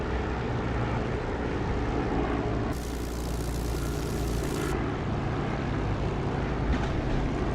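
Propeller aircraft engine drones steadily on approach to an airfield with the canopy open in the DCS flight simulator, a loud continuous roar with a brief hiss of extra air noise midway.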